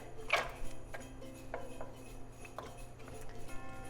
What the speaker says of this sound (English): And keep stirring because you don't want that chocolate to sit on the bottom and burn or not melt.